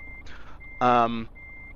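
Truck reversing beeps from Euro Truck Simulator 2, a steady electronic tone pulsing in a few short, loud bursts over a faint engine hum.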